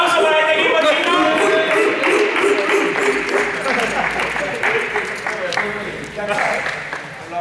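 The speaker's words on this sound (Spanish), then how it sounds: "Fuerte aplauso para este equipo" Applause for a team at a school frisbee tournament, loud clapping from a group of kids mixed with excited shouting and voices throughout, fading slightly toward the end.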